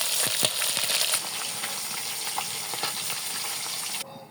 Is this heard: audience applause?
no